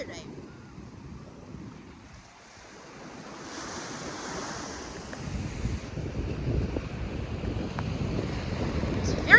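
Ocean surf at high tide, with a soft continuous wash of waves that swells gradually louder, mixed with gusty wind buffeting the microphone.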